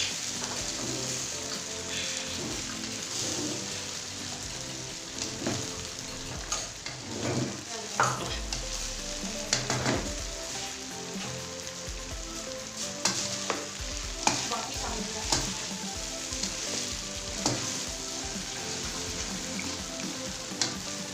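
Egg fried rice with Punjabi tarka being stirred and mixed in a hot pan, with steady sizzling and frying plus repeated scraping and tossing of the spatula, close and moderately loud, no talking.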